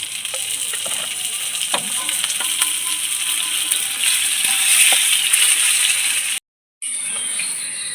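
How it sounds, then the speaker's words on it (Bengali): Semolina snacks fry in hot oil with a steady, close crackling sizzle and scattered pops throughout, then cut out briefly near the end before resuming. "পরের টিফিনটাও ভাজা হয়ে গেছে আমি নামিয়ে দেবো"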